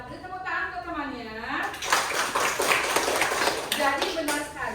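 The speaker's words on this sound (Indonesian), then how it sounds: "Ya, beri tepuk tangan ke temannya." Classroom students clapping for a classmate, a burst of lively, close clapping from a group that follows a teacher speaking and fades as talk resumes.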